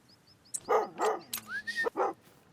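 A dog barks in the Call of the Wild hunting game, a quick series of about five sharp barks and yips, close and loud over a quiet background, with a short whine between them.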